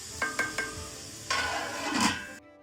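Green peas frying in oil over a medium flame, with soft sizzling and a few sharp scraping stirs near the start, then a louder stretch of sizzle and scraping before it cuts off.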